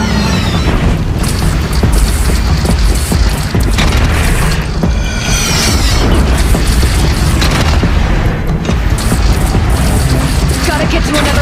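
Cannon fire in the Horizon Zero Dawn video game, with heavy booms and mechanical clanks inside a loud, dense battle din that lasts throughout.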